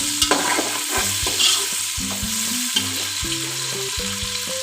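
Onions crackle and sizzle while browning in a hot pan under a steady hiss, with a metal spatula stirring and scraping in irregular strokes.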